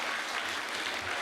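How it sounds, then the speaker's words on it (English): A school audience gives a brief round of applause, a dense, even burst of clapping throughout at a wildlife-conservation assembly. "Everybody give them a round of applause first."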